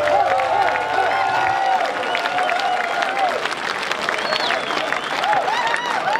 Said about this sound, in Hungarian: egy nagyon nagy tapsot kérni.